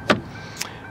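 Power window motor on a 2007 Ford Crown Victoria P71 police-package sedan, two short whirring bursts a half-second apart, close and fairly quiet, with no talking.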